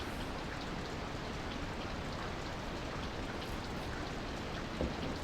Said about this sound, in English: It rained all day.